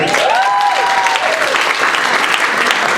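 Comedy club audience clapping and cheering after a call for performers' family and friends; loud, dense applause throughout with a voice briefly heard over the beginning.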